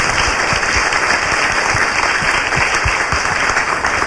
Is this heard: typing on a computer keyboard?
no